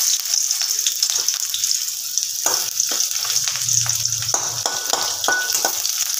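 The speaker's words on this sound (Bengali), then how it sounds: "ফোড়নে দিয়ে দেব একটু পেঁয়াজ, একটু পাঁচ ফোড়ন" Onion frying in oil with panch phoron tempering, a loud, dense hiss of sizzling oil holding steady throughout, with occasional stirring clicks and taps close by.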